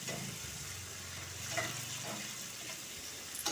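Boiled, salted and chopped cluster beans fry in a pan with a soft, close sizzle and occasional stirring scrapes, no voices.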